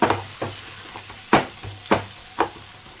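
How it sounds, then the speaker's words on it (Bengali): Onions frying in a little oil in a pan for paneer Kolhapuri, a soft constant sizzle punctuated by about six sharp scraping stirs at uneven intervals, with no voices. "পেঁয়াজটা দিয়ে দিলাম ফ্রাই করব"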